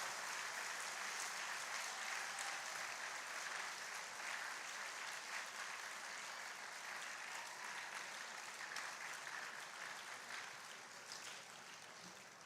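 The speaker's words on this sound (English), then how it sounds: "I request all of you to give a loud applause to all of them." Sustained applause from a large crowd at a dental college graduation ceremony, steady dense clapping throughout that fades slightly toward the end.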